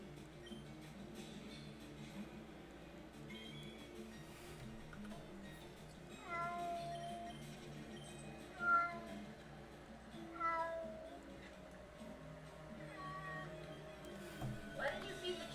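A cat meows several times at a moderate distance, short drawn-out cries rising over background game music and voices talking quietly in a room.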